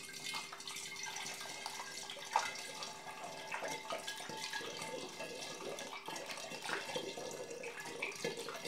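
Fruit juice being poured through a funnel into a glass demijohn while making cider, a steady trickling, splashing flow of liquid that runs unbroken at moderate level for several seconds with faint small drips.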